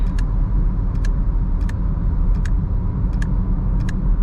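A Toyota Glanza AMT cruising on a highway at about 60 km/h and 1500 RPM gives a steady, continuous low road and engine rumble inside the cabin, with a faint light ticking or jingling recurring at regular intervals.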